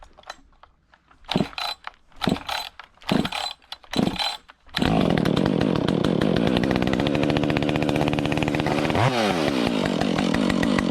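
A Husqvarna 562 XP Mark 1 chainsaw with a custom muffler mod: several sharp pull-start attempts, then the engine catches and runs loud and steady, briefly revving near the end.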